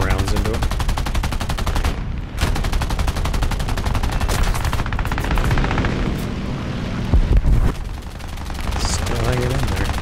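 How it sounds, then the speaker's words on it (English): Aircraft machine guns firing at an enemy plane in the War Thunder game, rapid continuous bursts of loud gunfire with brief pauses, over steady engine drone. "let's get below his back gunners and get a few more rounds into him"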